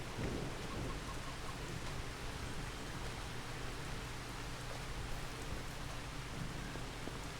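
Steady rain and rolling thunder in the Pasta King video game, a constant dense wash of rainfall with low rumbles throughout, loud and unbroken, no talking.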